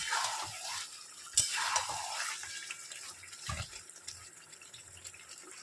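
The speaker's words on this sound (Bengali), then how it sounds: "এটাকে একটু নাড়াচাড়া করে অনবরত নাড়াচাড়া করতে থাকবেন" Chicken kosha being stirred in oil in a pan, a steady wet scraping and sizzling with water-like swishes and a sharp clink near the start, moderately close and alone.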